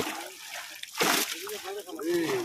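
A fishing net thrown into a pond lands with a sudden close splash, followed by sloshing and trickling water while people talk over it.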